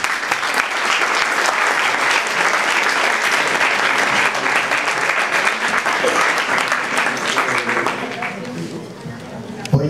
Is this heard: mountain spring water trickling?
no